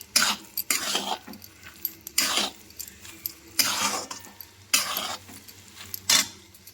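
Semolina dough being stirred in a pan while cooking for carrot rasmalai, heard as repeated scraping, clattering strokes of a utensil against the pan in an irregular rhythm, fairly close and moderately loud with no talk.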